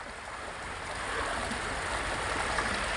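River water flowing steadily at a normal, gentle pace, making a close, continuous broadband rush that holds even throughout with no voices.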